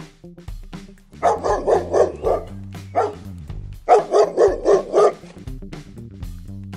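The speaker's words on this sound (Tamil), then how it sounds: "நாய், டாக்." A dog barks in two quick bursts of several sharp barks each, loud and close, with short pauses and a single bark between the bursts.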